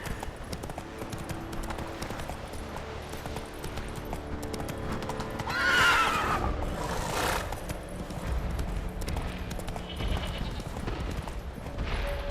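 Roach the horse in The Witcher 3 game trots with steady hoof clip-clops and lets out a short whinny near the middle, moderately close with soft background ambience.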